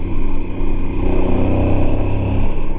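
Aprilia Tuareg 660 motorcycle engine pulling steadily in fifth gear over rough roads, a loud close throbbing mid-range drone with wind rush, continuous and alone.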